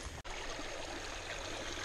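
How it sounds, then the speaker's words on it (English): A small waterfall on an inside bend of a creek gives a steady, broad rushing wash of water, close and continuous, with a brief dropout near the start. "Just found this nice little waterfall on an inside bend."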